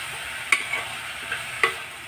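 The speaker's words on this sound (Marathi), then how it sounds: "चवीप्रमाणे मीठ टाकलं आहे ते मी आता आपण सगळीकडे मिक्स करणार आहोत" A dill and moong dal stir-fry with salt is stirred in a pan: a soft continuous sizzle carries a few sharp spoon scrapes and clicks close by, with no speech.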